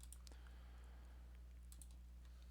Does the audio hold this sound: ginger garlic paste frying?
no